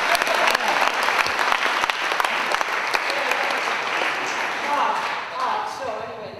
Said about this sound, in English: A round of applause for Dayton for not swearing